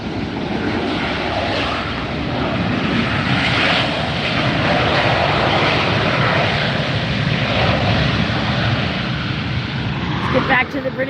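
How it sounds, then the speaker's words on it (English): A British Airways Boeing 777 airliner turning on the ground at LAX gives a steady, loud jet engine roar that holds for the whole stretch, with a person talking over it. "This is actually a 777 turning around here."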